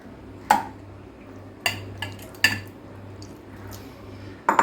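Washed boneless chicken is moved into a kitchen mixing jar, giving a few separate clinks and knocks of utensil against container at irregular intervals over a low steady hum, close and fairly quiet between hits.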